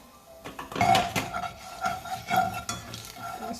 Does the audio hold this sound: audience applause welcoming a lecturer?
no